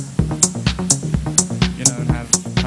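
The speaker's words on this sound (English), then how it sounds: "And then just start to add the prototypical techno stuff into it" Algorithmic techno with a steady kick-driven pulse, bright clicky hi-hat hits and a repeating low synth pattern, loud and evenly looped.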